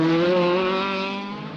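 A Fiat 131 Abarth rally car on a Tour de Corse stage in 1977 blasts past close by, a loud high engine whine that sags in pitch as it moves away, with no voices.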